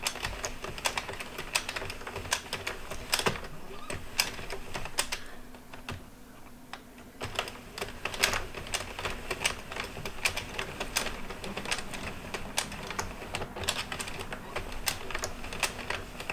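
Addi Express Kingsize circular knitting machine cranking out the first row of soft yarn for a cowl. It makes a rapid, continuous plastic clatter of needles clicking, with one brief pause midway.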